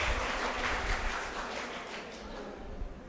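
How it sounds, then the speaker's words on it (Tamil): An audience at a school event claps together in a steady round of applause that gradually thins and fades toward the end. "ஒரு பெரிய கைத்தட்டு உங்களுக்கே கொடுத்துருங்க"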